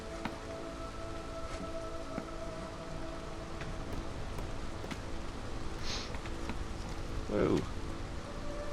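Steady storm rain patters across a video game settlement in Against the Storm, a constant soft wash with occasional brief rustles and a short burst near the end, while a voice exclaims once.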